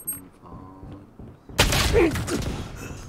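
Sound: gunshot headshot in a pistol-only round of a shooter video game

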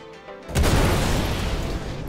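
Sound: missile explosions hitting a spaceship, from a video game

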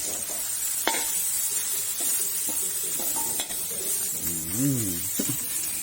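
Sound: ground curry paste being dry-roasted in hot oil

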